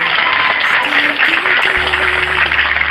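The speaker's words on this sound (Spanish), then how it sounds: "un aplauso para sus hijos también, un aplauso para todos" Applause for the children at a Christmas event in a hospital, steady crowd clapping filling the room throughout, with a voice speaking over it.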